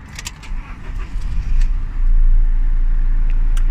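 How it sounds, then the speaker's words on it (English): A 2019 Toyota Hilux 2.4 GD-6 SRX 4x4 diesel is started from close by: a few light clicks and rustles, then the engine catches and settles into a loud, steady, low idle rumble. "Vehicle starts fine."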